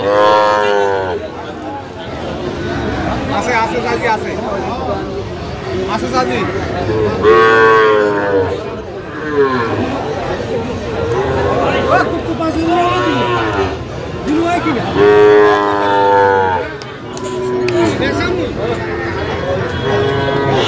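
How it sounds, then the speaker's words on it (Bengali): Several young bull calves moo repeatedly, loud and close, their drawn-out calls recurring every few seconds over a busy cattle farm background with people talking, in Comilla, Bangladesh. "ষাঁড় বাচ্চা।"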